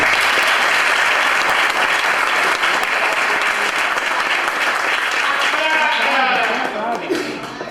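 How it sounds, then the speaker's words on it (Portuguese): Sustained applause from an audience for the mayor at a workshop event fills the room, a dense, loud wash of clapping that tapers slightly near the end as voices start to come through. "Senhores, uma salva de palmas novamente ao prefeito."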